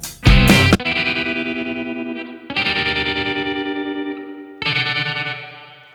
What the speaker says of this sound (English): And then a bit of tremolo